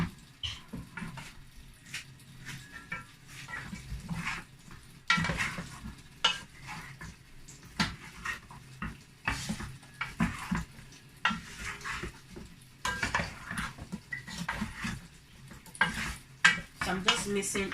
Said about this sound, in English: I'm just mixing everything